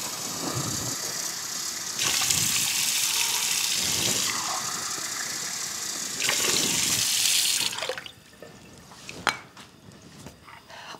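A cup of water splashes into a soup pot of meatball tortellini soup with tomato paste, two bursts of pouring and running water close by, followed by quiet clinks of a utensil against the pot.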